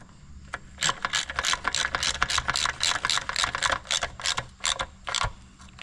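A ratchet wrench snugs up the chain adjuster bolt on a Harley Softail Evo motorcycle, giving a close series of quick, evenly spaced clicks in bursts with short pauses between them.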